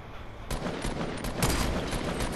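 Gunfire in the video game Fortnite, a close, loud burst of rapid shots that opens abruptly and continues as dense overlapping cracks with a brief lull partway through.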